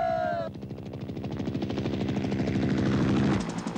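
Helicopter rotors thump in a fast, steady, loud chopping rhythm in a scene from the Iranian action film Kani-Manga. A voice is heard briefly before the rotor noise swells and takes over.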